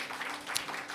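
A church congregation applauds in welcome of a guest during a Pentecost service, a soft, even wash of many hands clapping together, fairly faint and brief.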